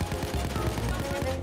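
Sustained rapid gunfire in the Payday 2 heist video game, a dense burst of repeated shots rattling steadily for the whole moment, loud and close with no pauses.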